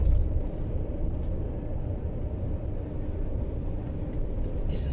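A Scania truck brakes while heading downhill, heard from inside the cab as a steady, dense low rumble that holds for about five seconds, with no voices.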